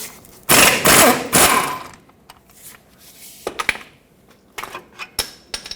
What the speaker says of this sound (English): Use an 18mm socket on the bottom to remove this bolt that holds it onto the axle.